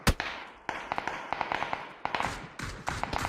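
Gunfire in the video game PUBG, a rapid series of sharp cracking shots in uneven bursts, fairly close and distinct, with no talk.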